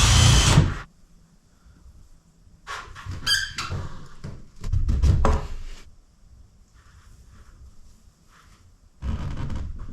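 A power drill drives two stainless steel screws into a plastic boiler intake fitting during an in-floor heating installation, giving short separate whirring bursts between quiet pauses, fairly close.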